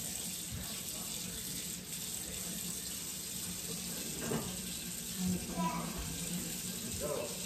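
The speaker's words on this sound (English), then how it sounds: "she's gonna go to the sink and rinse that off underneath the water" Tap water runs into a sink as plastic is rinsed beneath it, a steady close hiss of flowing water with small splashy changes as the item moves under the stream; no talk is heard.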